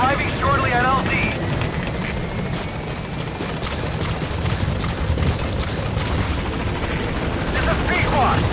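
A military helicopter approaches a landing zone in the Metal Gear Solid V video game, its rotor chop and engine roar loud and continuous throughout, with a radio voice speaking over it.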